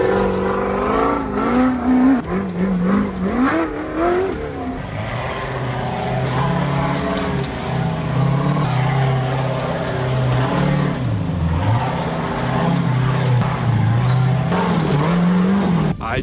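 An unlimited-class Ultra4 off-road race car climbing a mountain, its engine roaring loud and close with rising and falling revs and gear changes, steady throughout with faint rattles on top.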